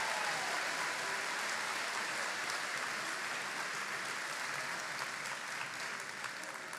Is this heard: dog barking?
no